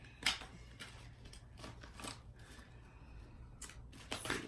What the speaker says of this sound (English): Let's shuffle like this for now.